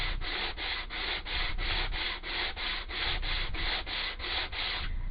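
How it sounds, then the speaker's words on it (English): Hand sanding thin wood veneer in light, even passes: steady back-and-forth rubbing strokes in a regular rhythm, about a dozen strokes, close and continuous with no talking. "you're not giving it a hard sand"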